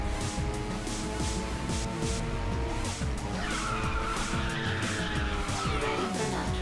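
A car drifts with long, loud tire squeal and a revving engine in the video game Ridge Racer 6, the skid holding steady for several seconds.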